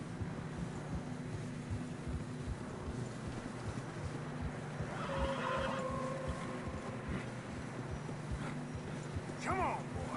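Horses in the video game Red Dead Redemption plod along on fresh snow with soft rhythmic hoof clip-clops, a brief neigh or whinny midway, and faint wind and talk underneath.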